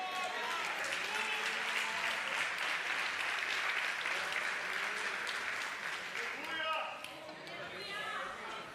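A church congregation applauds the Lord and shouts praise during a sermon, making dense, sustained clapping mixed with raised voices and cheering crowd chatter. The sound holds loud and full throughout.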